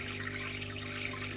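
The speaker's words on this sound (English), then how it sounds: "there's quite a nice steady flow of water coming out" Steady water flow from an air-pump-driven pipe in an aquarium sandfall, a constant close bubbling trickle with no breaks.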